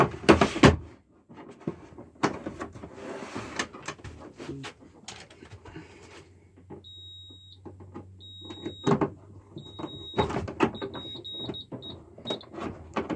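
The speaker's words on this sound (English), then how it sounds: "Buzzer." A Menvier MF200 fire alarm panel, upgraded to Firedex, sounds its buzzer in a run of short, sharp electronic beeps, first spaced apart and then in a quicker burst, amid clunks and handling noises during installation work.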